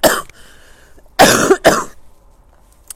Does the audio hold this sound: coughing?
yes